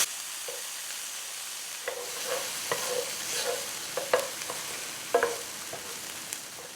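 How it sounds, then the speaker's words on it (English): San Marzano tomatoes and vegetables sizzle steadily in a pan, with soft scraping and clinking of a utensil stirring at irregular intervals, close and moderately quiet. "I'm going to saute these until everything has softened."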